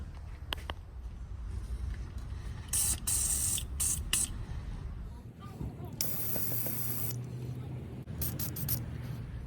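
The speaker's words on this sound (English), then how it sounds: "we're going to spray down our nuts and bolts" Penetrating lubricant sprays in several short, close hissing bursts onto the nuts and bolts of a Jeep Patriot or Compass lower control arm, with softer handling noise and a low background hum between bursts.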